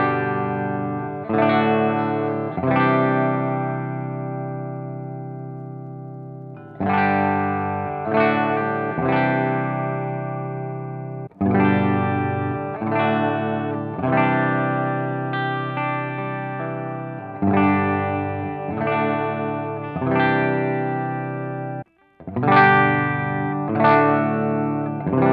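A Gibson Les Paul electric guitar plays chords and riffs with effects, clean and ringing, in repeated phrases with brief pauses and sustained notes, loud and close with no talking.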